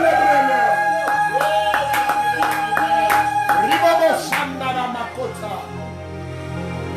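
A church congregation claps in rhythm, with loud, regular hand claps over sustained music and voices, then the claps fade into a blur of crowd noise.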